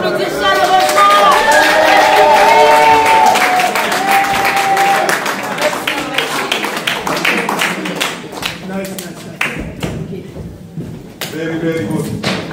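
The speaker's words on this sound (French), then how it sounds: "Est-ce qu'on peut encore applaudir chaleureusement?" Concert audience at a show clapping warmly, dense applause at first that thins into scattered claps, with a voice talking over it and cheering mixed in.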